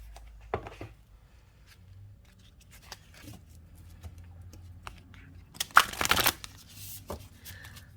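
Oracle cards shuffled live in a quiet room: faint sparse riffles and taps early on, then a louder burst of card riffling near the end, with no talking.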